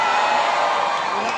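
A crowd at an anniversary gathering cheers and shouts in a brief, dense burst, loud and continuous throughout.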